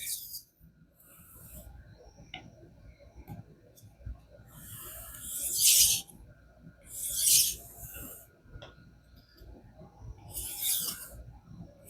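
A knife edge rasps across a King whetstone in several short, bright strokes spaced a second or two apart, with quieter scraping and handling noise between them.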